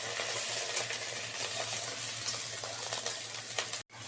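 Garlic cloves fry in hot oil in a pan for lentil dal, giving a close, steady crackling sizzle with a faint low hum beneath and a brief cut near the end.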